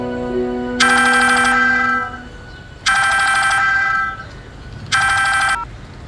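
A telephone ringtone sounds in three loud, evenly spaced electronic bursts with pauses between them, in a quiet indoor home setting.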